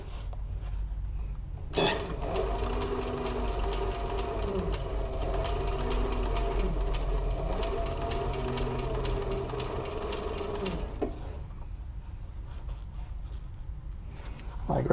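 A sewing machine stitches a crossbody bag seam in a steady whirring run of about nine seconds, starting and stopping abruptly, with quieter room noise before and after.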